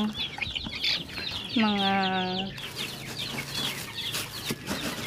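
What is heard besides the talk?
5-day-old chicks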